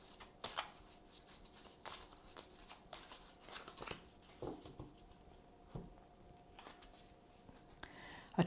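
A tarot deck shuffled by hand before a card is chosen: soft, uneven papery slides and taps at close range, fairly quiet, with no talking.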